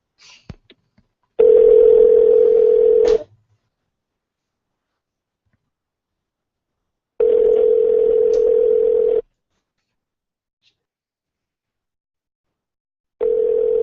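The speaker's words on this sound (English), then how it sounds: "Let's try blowing in a call here" A telephone dial tone sounds in long steady bursts, three separate stretches with silence between, preceded by a few faint clicks as a call is placed; no talking.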